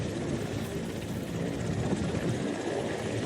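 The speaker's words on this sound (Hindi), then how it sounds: "हिमाचल में हेलीकॉप्टर से रेस्क्यू ऑपरेशन चलाया जा रहा है।" A helicopter flies during a flood rescue operation in Himachal, its rotors and engine making a steady, dense roar that holds at an even loudness throughout with no voices.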